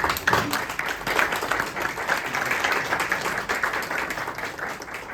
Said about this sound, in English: let's begin with giving him a big round of applause